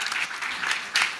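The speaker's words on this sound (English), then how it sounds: "Really, you must clap for David again." An audience at a civil society organizations induction session claps steadily throughout, with a brief louder surge near the end.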